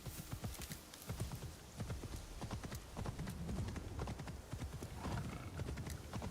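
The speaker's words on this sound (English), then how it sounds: "My horse sounds like a monster." A horse gallops in the video game Assassin's Creed Shadows, with steady, rapid hoof clip-clops and snorting breaths running through the whole stretch, loud and close.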